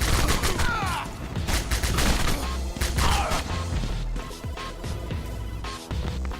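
Grenade blasts and rapid gunfire from the action game Bionic Commando Rearmed, a dense, loud run of bursts and crashes with repeated impacts layered over game music and effects throughout.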